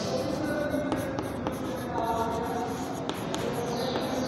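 A math solution is written out on a board in a classroom lesson, with a run of scratchy strokes and taps over a steady room background.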